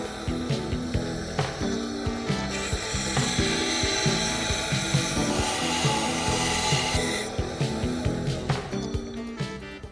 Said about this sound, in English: We're going to sharpen one end on our sander and clean up the other end.